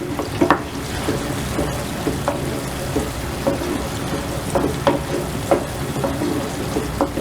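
Chicken lollipops cook in a pan with a splash of white vinegar over a medium flame, giving a dense, rain-like frying hiss with scattered spatter pops and stirring knocks throughout.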